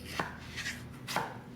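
Potatoes being cut for French fries with a knife on a board, three distinct close chops spaced about half a second apart over a quiet background, no talk.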